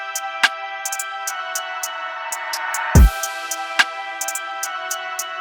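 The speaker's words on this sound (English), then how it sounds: "the transition with this rise effect sounds like this" Rising transition effect in a UK drill beat: a sustained synth swell under ticking hi-hat hits, cut by one deep booming hit near the middle before the hats carry on.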